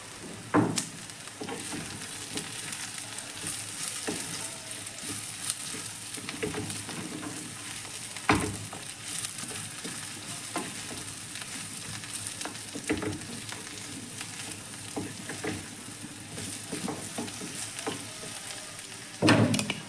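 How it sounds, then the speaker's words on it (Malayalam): Chopped okra frying with softened shallots in a pan gives a steady soft sizzle, broken now and then by sharp clacks of a spoon stirring against the pan. "നമ്മുടെ ചെറിയ ഉള്ളിയൊക്കെ നല്ലപോലെ വാടിയിട്ടുണ്ട് അതിലേക്കൊരു കാ കിലോ വെണ്ടയ്ക്ക ചെറുതായിട്ട് അരിഞ്ഞത്"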